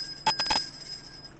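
A small hand bell is struck in a quick cluster of three or four bright rings that leave a thin metallic tone sustaining softly for about a second.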